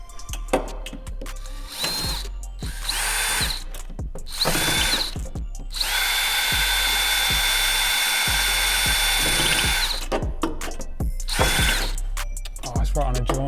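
A power drill bores holes through the floor of a Mazda MX-5 Miata while frame rails are fitted, with repeated short bursts and one long whining run, close and loud, plus clicks and handling noise between them.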